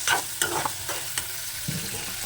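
Chicken liver fries in plenty of oil in a pan and gets stirred. There is a close, constant sizzle with several quick scraping stir strokes over it and no voices.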